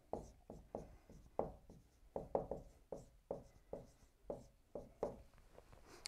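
A pen or marker writing out a math equation by hand, giving a steady series of short scratchy strokes in an uneven rhythm, close and fairly quiet with no talking.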